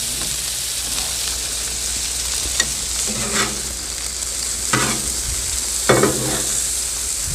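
Juice sizzling on a hot Blackstone griddle alongside sous vide steaks, a loud continuous hiss and crackle with occasional scraping stirs.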